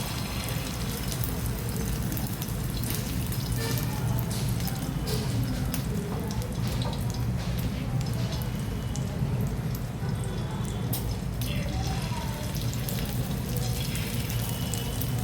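Beaten egg sizzling in hot oil on a tawa, a continuous dense crackling hiss with fine popping spatter that holds steady and loud throughout.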